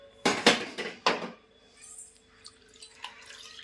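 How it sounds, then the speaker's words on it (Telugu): Metal idli steamer pot handled in a home kitchen, with a few loud clanks and knocks close by in the first second, then quieter scattered clinks and faint drips. "ఇది క్లాత్ ఇడ్లీ గిన్నె"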